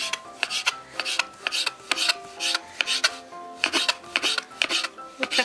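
A knife slices rolled chak-chak dough into strips on a wooden board, a steady run of sharp, close cutting taps and scrapes at a brisk even rhythm, no voice.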